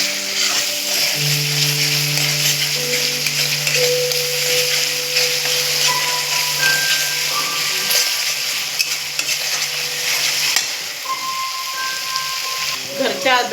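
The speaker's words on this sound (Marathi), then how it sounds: "लाल करून घेऊया. अद्रक लसूण कांदे" Ginger, garlic and onion for masala pav bhaji fry in a pan with a steady, dense sizzle that continues throughout, while background music plays underneath.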